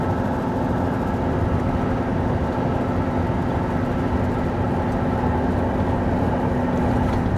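Car driving uphill on the road from Surabaya to Malang, heard from inside as a loud, steady engine and road drone that holds constant without distinct rises in pitch.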